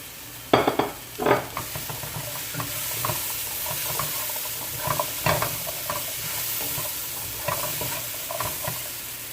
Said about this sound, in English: I'm going to add my carrot and my Irish.